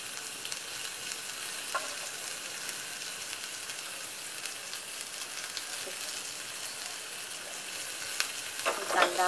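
Onion frying in a pan as the base of a stuffing for stuffed padval, an even crackling sizzle throughout with faint stirs and a brief clatter of utensil contact near the end.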